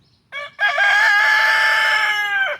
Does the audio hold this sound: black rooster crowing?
yes